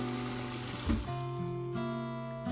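Tap water runs steadily over fresh holy basil leaves being washed under the faucet, a continuous close splash and hiss with no talking.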